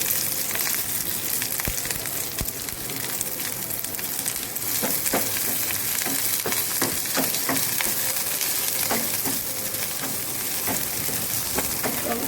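Onion and drumstick leaves frying in hot coconut oil after mustard seeds have popped, a steady loud sizzle with scattered crackles and pops running throughout, with no one talking.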